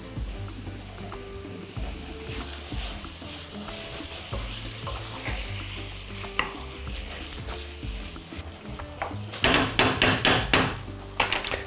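Tender beef fries with vegetables such as zucchini in a pan, giving a continuous close sizzle with scraping and stirring clatter that grows louder and busier toward the end.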